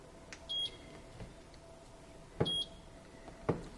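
An air fryer beeps as its bake setting is chosen: two short electronic beeps near the start and middle, plus sharp taps and button presses, close and clear in a quiet kitchen with no talk.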